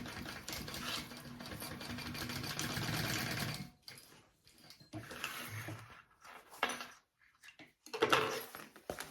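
A sewing machine basting nylon strap connectors onto a bag panel runs in bursts, first a steady stitching run and then several shorter stop-start spurts, near and fairly quiet.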